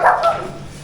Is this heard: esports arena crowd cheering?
no